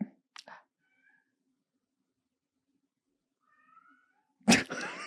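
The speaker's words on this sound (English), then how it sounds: "It's almost like a ghost cat, like meowing from another dimension." A cat meows faintly from a distance in a few thin, scattered cries, with brief clicks at the start and a louder muffled noise at the end.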